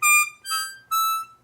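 Three held harmonica notes in a row, bright and reedy with strong overtones, each swelling then fading, the pitch shifting between them: the bend on hole 8 not held.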